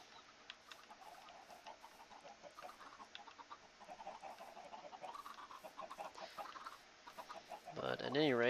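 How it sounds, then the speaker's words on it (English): Minecraft chickens cluck in scattered short calls through a game soundtrack, growing louder and busier toward the end with a rising burst of bird noise in the last second. "Oh yeah, we're making lots of chickens now."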